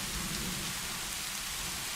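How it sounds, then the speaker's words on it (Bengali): Steady rain pours down in an animated rural scene, a continuous dense hiss of falling drops with no voices, even and unbroken throughout. "যে বৃষ্টি শুরু হয়েছে"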